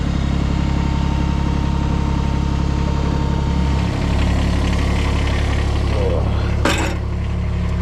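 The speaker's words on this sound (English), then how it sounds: "Hard to drive the tractor with the stabilizers still down." A Kubota BX compact tractor engine idles steadily with a constant low rumble and hum, close by and loud, with a brief sharp knock near the end.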